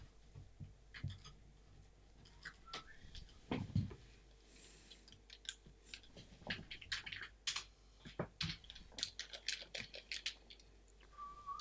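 Keys clatter on a USB keyboard in quick, irregular bursts of close clicks and taps, with short pauses between flurries and a faint hum underneath.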